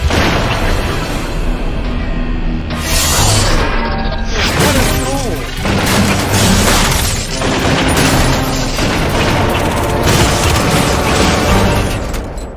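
Animated sci-fi combat as a turret fires against an energy shield, loud booming blasts and crashing impacts layered over a dense score, with voices talking through the action.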